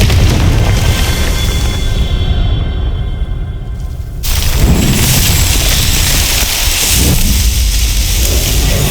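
Fiery Confringo spell blasts in Hogwarts Legacy, a loud rumbling explosion that cuts off sharply, then another heavy burst with crackling, roaring debris that keeps rumbling to the end.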